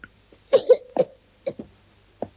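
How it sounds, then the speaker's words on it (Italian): A child coughs in a few short, sharp bursts, a quick pair followed by single coughs, close and otherwise quiet. "Se tuo figlio tossisce durante la notte,"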